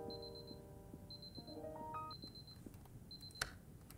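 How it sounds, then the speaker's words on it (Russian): In the puzzle video game Superliminal, a faint electronic alarm beeps in repeated quick bursts, with tonal game sounds and a brief sharp click woven in among a busy low background. "Уже пикать начинает прямо на выходе."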